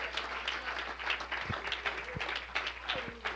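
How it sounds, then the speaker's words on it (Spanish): A church congregation applauds during a service, a steady wash of many hands clapping at moderate distance, fairly faint over a low hum, with occasional louder claps standing out. "Si ese aplauso es para Él, désele un aplauso a Él."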